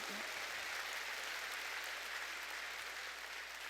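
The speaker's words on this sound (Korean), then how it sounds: "박수 치라" A church congregation clapping during a sermon, an even, sustained patter of many hands heard faintly with a low hum beneath.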